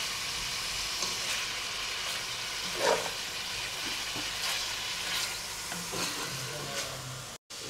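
Meat for a mafé stew being stirred as it fries in a pot, a continuous close sizzle with soft scraping strokes of the spoon and a short knock near the middle, no voices heard.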